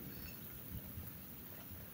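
Heavy rain with hail pounding down during a severe storm, a dense, steady roar of drops and hailstones drumming on surfaces, loud and continuous throughout with no talk.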